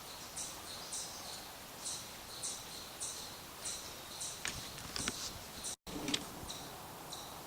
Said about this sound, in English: There are tons of chipmunks up there scolding me.